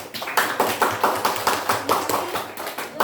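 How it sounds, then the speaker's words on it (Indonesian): Classroom applause for a student group presenting a biodiversity lesson: a small crowd claps steadily in quick, even bursts, close and moderately loud. "Kita beri tepuk tangan dulu untuk kelompok 1"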